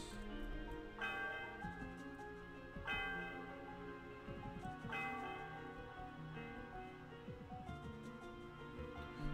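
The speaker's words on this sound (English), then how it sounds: "Sound of the bell, okay, reverberates through the area." Celestial Tower bell in Pokemon White, a bright chiming bell struck about four times at steady intervals, each ring reverberating and overlapping over a soft in-game music background.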